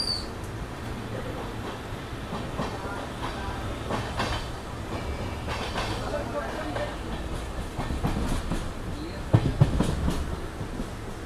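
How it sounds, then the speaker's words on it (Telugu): Satavahana SF Express pulling out of Dornakal on the main line and accelerating, a steady rolling rumble with faint wheel clatter throughout, swelling louder with a few sharp knocks near the end. "దోర్నకల్ నుంచి అయితే డిపార్ట్ అయింది ట్రైన్."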